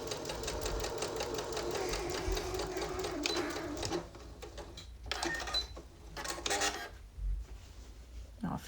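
Sewing machine stitching a backstitch on a fabric bucket-style pouch, running steadily for about four seconds, then stopping and restarting in short reverse and forward bursts.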